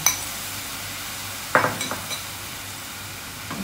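Stir-fried cabbage with egg and chicken sizzles in a pan, and a utensil scrapes and clinks against the pan as it is stirred. There is one sharp stirring burst followed by a few lighter taps over a soft, steady hiss.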